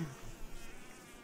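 A fly buzzes in the video game Izak Karaluch, a steady, continuous droning whine that stays level and close throughout, with no speech over it.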